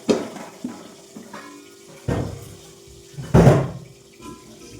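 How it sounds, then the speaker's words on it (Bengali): Water running from a tap into a vessel in a home kitchen, short splashing bursts with a louder gush near the end, close and alone. "জল ভরতে হবে এখন।"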